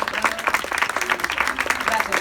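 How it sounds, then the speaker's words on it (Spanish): An audience at a book launch gives brief applause, scattered clapping of moderate loudness that rises and falls quickly, with voices audible over it. "así que un aplauso enorme para la persona"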